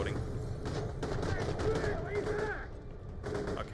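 A gun in the shooter Borderlands: The Pre-Sequel fires in rapid bursts, sharp cracking shots with mechanical rattles and a rising whine in the middle, over faint game sounds.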